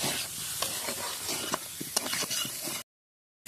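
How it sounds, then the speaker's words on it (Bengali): Cumin, black pepper and chili being stirred and fried in a pot on a home clay stove for a potato-meat curry: a steady close sizzle with repeated scraping stir strokes, ending abruptly in silence. "এবার নেড়ে একটু ভালো করে কষাবো"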